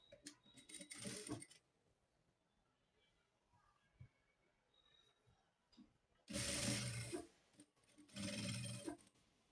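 Sewing machine stitching salwar fabric along a marked 6-inch line, running in three loud, dense bursts of a second or two each with quiet pauses between them and no talk.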